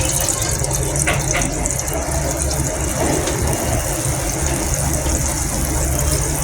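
Paraffin oil pours steadily into a pot while making homemade hair conditioner, a continuous gushing, liquid-filling wash that stays at an even level from start to finish with no talk.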